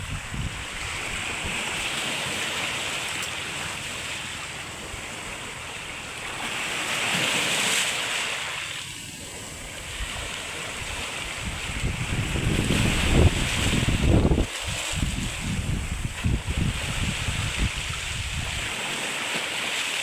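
At sea by a seaweed farm, strong wind roars and buffets the microphone while waves surge and crash nearby, the noise rising and falling in heavy gusts.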